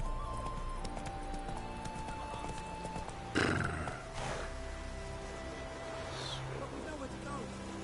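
The horse Roach gallops in the video game The Witcher 3 with rapid rhythmic hoofbeats, loud and close, a whinny bursting out midway over a busy background of game sounds.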